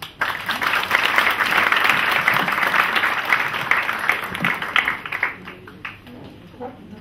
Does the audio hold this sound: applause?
yes